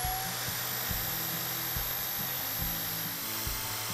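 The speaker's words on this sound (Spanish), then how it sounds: "he colocado, fijaos, un cepillo de púas que he acoplado al taladro" A power drill fitted with a flexible wire brush, cleaning wood, whirs steadily with a harsh, buzzy grinding texture, pulsing slightly as it runs continuously at close range.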